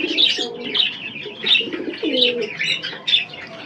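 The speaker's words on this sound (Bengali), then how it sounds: "ভালো পায়রাটা, বেশ সুন্দর।" Pigeons coo in repeated low rounded phrases, including a kagoji male, mixed with brighter chirps from other birds close by, steady through the whole stretch.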